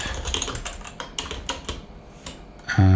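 Fast, steady typing on a computer keyboard, a run of close crisp key strikes with a brief pause before a final louder thump at the end.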